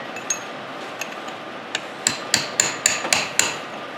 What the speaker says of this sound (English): I have to drive that into its groove with a chisel a little bit